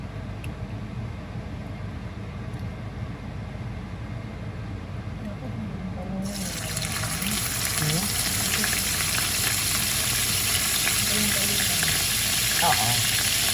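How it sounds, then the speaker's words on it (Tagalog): Chicken liver fries in a hot pan for Filipino chopsuey, a steady close sizzle that grows louder and brighter halfway through, with a voice talking over it. "Prito muna natin ito guys."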